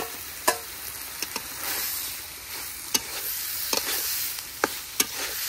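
Potatoes are stirred and fried in spice masala, giving a steady close sizzle with sharp, intermittent scrapes and knocks of a spoon against the pan every second or so.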